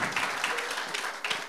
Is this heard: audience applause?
yes